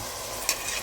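A spoonful of chillies and a small chopped tomato are stirred in a pan that is still barely warm, with a soft steady sizzle and one brief scrape of the spoon in a short near burst.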